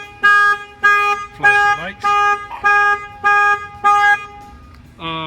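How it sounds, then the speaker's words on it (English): Pontiac Solstice aftermarket car alarm in panic mode, firing loud, close, repeated siren tones in a steady cycle of about seven bursts with a brief voice under it near the end. "If you hold the button down, you can fire the panic."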